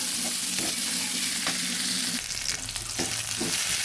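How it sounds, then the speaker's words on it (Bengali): Chopped onions sizzle and crackle in hot oil for a raw banana curry while a utensil stirs and scrapes the pan now and then, close and continuous. "পেঁয়াজটাকে ভেজে নেব।"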